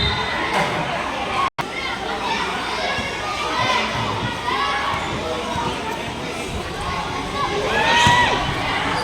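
A happy crowd cheers and chatters in a gym during the third quarter of a local basketball game, a continuous lively roar with children's shouts and a brief dropout near the start.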